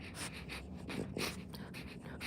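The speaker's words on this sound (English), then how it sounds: "Stop sniffing my Band-Aid, sucker." Close, rapid sniffing and snuffling breaths, a dog nosing at something in short repeated bursts with no talking.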